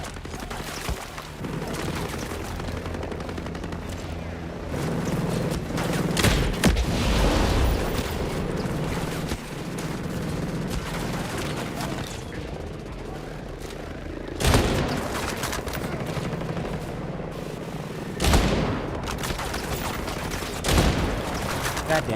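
Gunfire in the video game Ghost Recon Breakpoint: steady dense shooting with repeated sharp bursts and booming impacts, loud and continuous over a rumbling battle bed.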